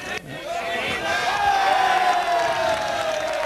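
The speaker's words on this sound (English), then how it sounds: "As you can hear, the very, very large crowd here urging the North Midlands on." A very large crowd at a 1993 lawn bowls final between North Midlands and Yorkshire cheers and urges the team on, in a steady, loud roar with whistles rising over it.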